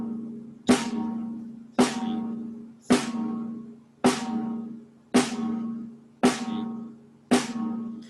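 Drum pattern of snare strokes and a bass drum, seven evenly spaced sharp hits about a second apart, each followed by a ringing decay, played alone with no talking.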